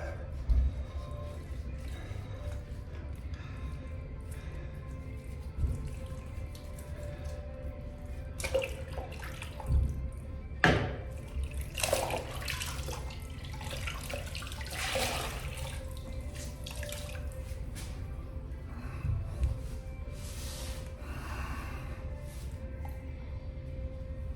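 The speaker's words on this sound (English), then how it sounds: "I just dropped the brush in the water to rinse." Shaving brush dropped into water and rinsed during a straight razor shave, giving close splashes and sloshing bursts over a continuous watery background, with a few louder drips and swishes scattered through.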